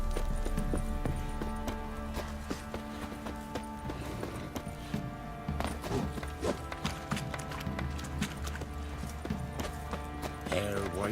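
Steady clip-clopping hooves from The Witcher 3: Wild Hunt, layered over busy ambient noise and murmuring background voices.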